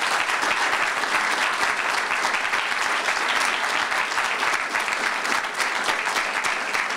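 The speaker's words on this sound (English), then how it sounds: "Let's give them all a round of applause for their tremendous work" A county budget audience bursts into a round of applause for the department heads: dense, steady, loud clapping sustained evenly throughout without letup.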